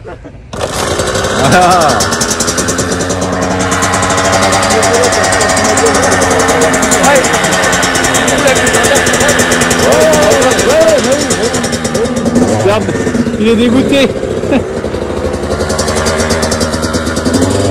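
The engine of a 2021 Kawasaki KX 85 dirt bike runs loudly and steadily up close, with revving rises and falls throughout and someone speaking briefly over it.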